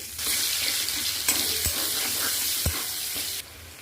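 Chopped onion dropped into hot oil with nigella seeds and a bay leaf, making a loud, close sizzle that bursts in at once, carries a few clinks and scrapes, then drops sharply near the end.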